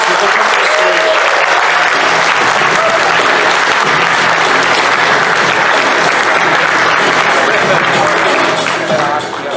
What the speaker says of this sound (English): please give Marcelo and Jim a round of applause as they come to the stage